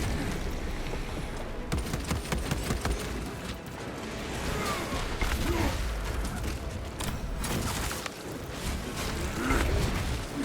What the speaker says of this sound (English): Swapping magazine.